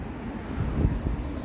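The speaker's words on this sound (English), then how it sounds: "And this wind is no big deal." Wind gusts buffet a microphone outdoors on a city street, a low rumbling whoosh that swells briefly in the middle, fairly faint and with no one talking.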